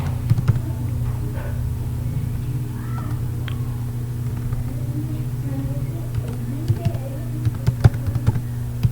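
Keys are tapped in a light, irregular patter on a computer keyboard while typing a C++ #include line, soft and close over a steady low hum.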